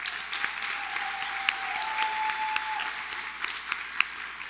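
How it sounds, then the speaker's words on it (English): Audience at a Miss Washington County and Miss Greater Zion 2023 pageant applauds the contestants, a steady dense wash of clapping with a few sharper individual claps standing out, no voices over it. "Let's give all of our contestants one more huge round of applause."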